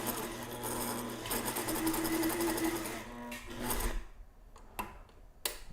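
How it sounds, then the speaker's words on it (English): A sewing machine stitches curves on a fabric head mask. A steady close whirr runs for about four seconds and then gives way to a few short stitching bursts and clicks. "I don't have much experience doing curves, like sewing curves"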